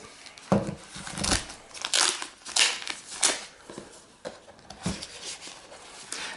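Thin plastic film wrapped around a Xiaomi Bluetooth smart bathroom scale crinkles and crackles during unboxing in a series of loud, close, irregular bursts with short pauses between them.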